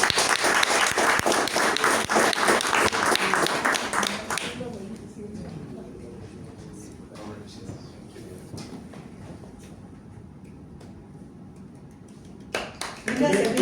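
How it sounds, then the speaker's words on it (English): A Toastmasters club meeting's audience claps for a best-speaker winner: loud, dense applause for about four seconds, then it drops away to scattered taps and room noise, with a last brief burst of clapping near the end. "Give me a round of applause, everyone."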